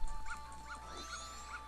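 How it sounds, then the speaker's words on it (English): Brief dog yips and whimpers from a dog in the video game Majora's Mask, a few short high calls spaced across the moment over steady game background music. "Hey, ah, dog. That was rude."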